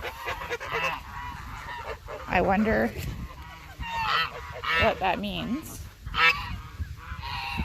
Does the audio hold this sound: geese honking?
yes